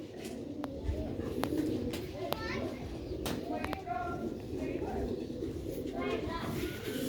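Pigeons bathe in water and coo steadily, with splashing and soft calls over a constant background murmur and the distant voices of children at play.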